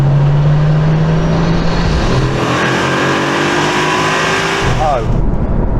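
Car engine pulling hard on a de-restricted autobahn, a loud steady drone with rising engine tones and heavy road and wind roar throughout, close inside the cabin.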